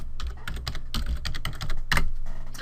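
A password goes in on a computer keyboard in quick, uneven keystrokes, close and steady for a few seconds, with one slightly harder key press near the end.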